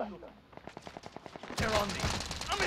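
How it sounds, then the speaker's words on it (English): Gunfire in Call of Duty: Modern Warfare comes as a rapid burst of about a dozen evenly spaced shots, then a louder crackling volley of overlapping fire at the end. "someone else is shooting"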